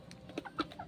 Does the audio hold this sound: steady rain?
no